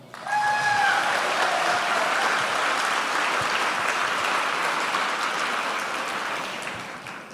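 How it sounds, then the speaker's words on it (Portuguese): A church congregation bursts into loud, sustained applause during a sermon, a dense wash of many hands clapping that holds steady and then slowly tapers. "Pode aplaudir."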